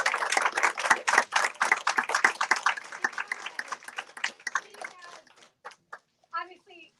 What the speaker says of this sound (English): Can we just like truly just give her a round of applause?